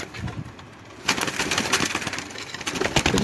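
Fancy pigeons in a loft in Lahore coo and flutter close by. The sound starts quiet and then becomes a denser, louder wash of bird noise after the first second, with no talk.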